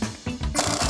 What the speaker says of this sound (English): We'll use a hammer to separate the lower ball joint